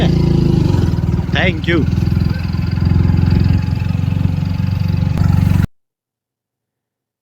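A car engine runs after being put into first gear on an outing to Kadamgiri near Palitana, a loud, close, steady throb with a brief spoken phrase over it before the sound cuts off abruptly.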